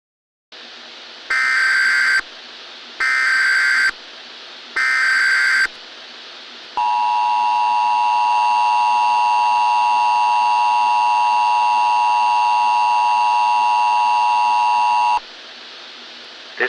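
Emergency Alert System attention signal from a fictional EAS broadcast scenario: three loud, sharp data bursts, then a long, steady two-tone alarm. The alarm holds for about eight seconds over a faint hiss, with no voices.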